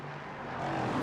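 A 5.6 litre V8 race car rumbles in a sim racing event at Laguna Seca, a short low engine drone swelling slightly louder over one second, no talk.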